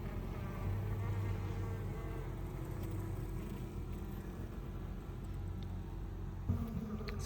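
Honeybees in an open hive buzz steadily around a queen cell, a dense continuous drone close by with no voices.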